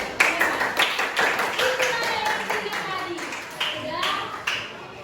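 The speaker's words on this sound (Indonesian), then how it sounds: "tepuk tangan untuk" Pupils in a classroom break into lively applause, a dense patter of clapping hands rising and fading in waves, with children's voices mixed in.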